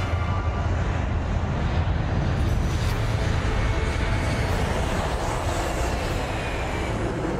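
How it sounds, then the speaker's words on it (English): An Airbus A380 accelerates down the runway for takeoff on a clear day, a steady, loud broadband roar of jet engines and rolling noise that holds constant throughout with no voices. "At 10:29 a.m., under a cloudless sky, the A380 accelerates down the runway."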